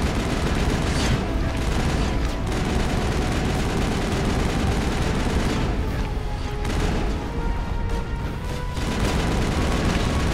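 Constant, loud gunfire fills a video-game firefight in Mass Effect: sustained automatic bursts and overlapping shots with dull booms underneath, a dense barrage that never lets up.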